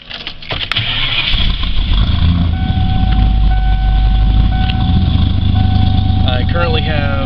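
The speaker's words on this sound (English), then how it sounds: "still starts up like the day I got it" A high-mileage truck's engine cranks and catches, then settles into a loud, steady idle rumble close by, with a brief chirp of accessories near the end.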